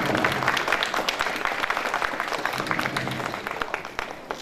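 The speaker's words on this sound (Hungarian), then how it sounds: "Még egy nagy tapsot nekik, a lányoknak." Audience applause for the girls at a Hungarian stage event, a steady dense patter of clapping filling the room at moderate level throughout, with faint voices mixed in.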